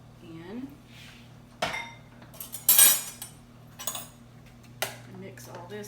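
A spoon clinks and scrapes against a bowl while squash, butter, cheese and eggs are stirred together, with irregular knocks and rattles under light background hum.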